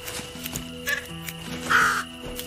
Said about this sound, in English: We are freeing a bird here, guys.